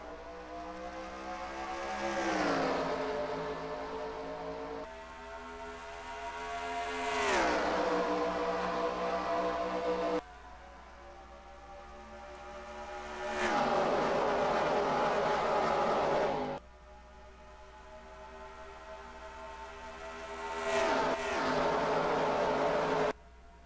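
Race cars roar down the straight at Indianapolis in NASCAR Racing 2003, engines rising and sweeping past in about four loud, close passes with brief gear-change dips between them.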